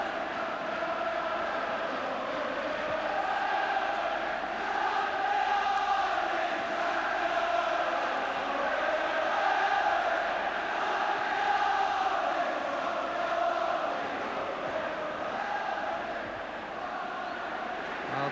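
A football stadium crowd at Celtic v Honved keeps up a sustained roar of cheering and chanting in support of a goalscorer, a steady distant wash of many voices with a commentator talking over it.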